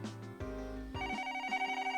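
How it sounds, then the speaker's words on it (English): An office telephone rings in a steady electronic tone that shifts pitch partway through, standing alone without talk for about two seconds. "In the midst of the never-ending phone calls, I quickly cleaned up around my desk"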